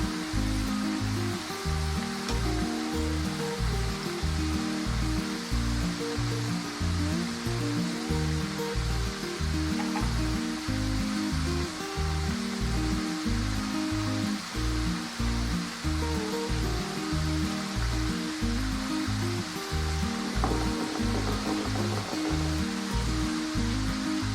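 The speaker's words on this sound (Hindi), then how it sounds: "ये फ्राई तकरीबन हो गए हैं, बस थोड़ा सा और फ्राई हो जाए तो फिर हम इन्हें निकालते हैं" French fries frying in hot oil, nearly done and turning brown, give off a steady, dense hiss that runs unbroken throughout, with a regular low pulsing thump underneath.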